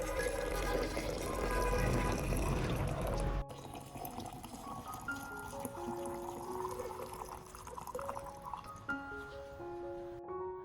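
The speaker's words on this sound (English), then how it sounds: "we will add about 500 milliliters of hot water" Hot water pours into an orchid nutrient solution as a loud, gushing splash for about three seconds, then stops, leaving soft background music.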